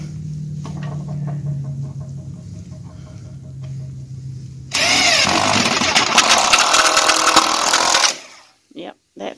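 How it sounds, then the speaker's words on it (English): A power drill drives a screw into a wooden barn door, a loud sustained whirring burst of a few seconds, close up, following quieter farmyard background with a rooster-like hum. "Now he's putting the screw in."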